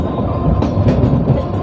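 A MEMU passenger train on the Patna–Gaya line rolls along the rails after a halt, a steady loud rumble with wheel clatter and a few brief rattling bursts, heard from inside the coach.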